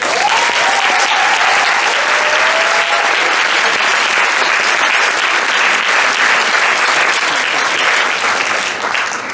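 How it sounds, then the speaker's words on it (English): An audience applauds veterans at a debate tournament final, steady and loud, filling the room from start to finish with a faint voice rising briefly near the beginning. "So applaud them and applaud yourselves"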